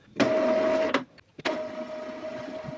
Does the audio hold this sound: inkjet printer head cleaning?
yes